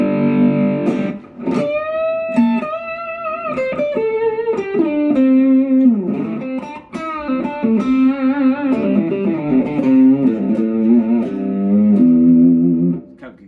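A Strandberg Boden+ NX 8 True Temperament eight-string electric guitar played through heavy distortion, with sustained chords and bending notes ringing out loud and close for the whole stretch, pausing briefly midway.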